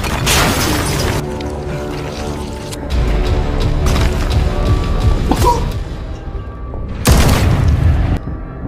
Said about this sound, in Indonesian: Mr. Choi sempat menembak Jayun